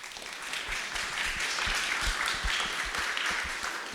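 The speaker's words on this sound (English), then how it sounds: "let's give the panelists a round of applause" An audience at a finance conference applauds the panelists, producing a full, close, continuous burst of clapping that holds steady for several seconds.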